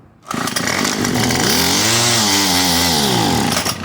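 A Craftsman WS210 string trimmer with a carburetor needing adjustment starts up and runs loudly and steadily, its engine pitch swelling upward and then easing back in a continuous, close roar.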